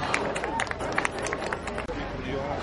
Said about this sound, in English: let's give him another good round of applause